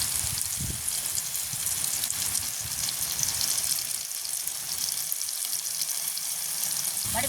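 Food sautéing in a pan in a village kitchen with a steady, hissing sizzle that holds throughout, broken by a few light stirring scrapes.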